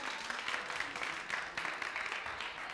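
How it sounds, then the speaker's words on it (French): Audience applause for a performer on a television entertainment show, a dense, even patter of clapping from a studio crowd, steady and moderately distant over the short span. "Bien plus d'applaudissements pour lui."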